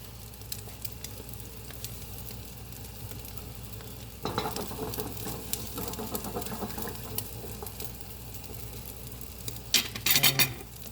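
A Spanish tortilla frying in a pan, a steady soft sizzle with occasional utensil scrapes and a few sharper clinks of pan and plate near the end.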